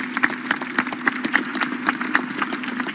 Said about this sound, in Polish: Bardzo, wielkie brawa.